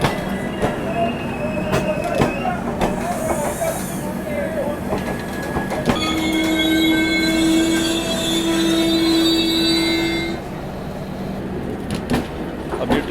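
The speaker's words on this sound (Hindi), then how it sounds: "ट्रेन चली है" Sriganganagar to New Delhi superfast express train moving off at a station, a steady rumble of rolling rail cars with a sustained wheel squeal in the middle, and voices in the background.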